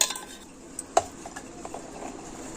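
A spoon stirs melted jaggery into kheer, a Chhath kharna offering, in a pot, giving soft scraping with a few light clinks. The sharpest clink comes about a second in. The sound is quiet and close, with no talking.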